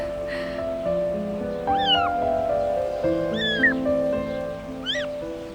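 A cat meows three times at spaced intervals, clear and close, over a sustained musical score in a domestic drama scene.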